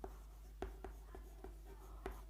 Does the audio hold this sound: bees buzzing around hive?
no